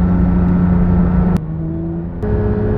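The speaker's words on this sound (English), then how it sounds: "the sound levels in this car are high, but that's down to the big tyres and lack of soundproofing" Steady, loud road roar and tyre drone fill the cabin of a Porsche 992 GTS sports car with big tyres and little soundproofing, with a low engine hum that shifts pitch briefly midway; no talking.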